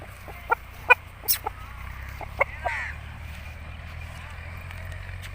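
An Aseel rooster gives a few short, sharp clucks and calls, scattered over a quiet background hum at close range.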